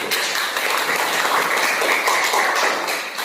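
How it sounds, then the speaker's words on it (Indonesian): Applause from students in an Indonesian classroom during a teacher's lesson, a steady dense wash of clapping filling the room for about three seconds and easing off slightly at the end. "Iya, tepuk tangan semua"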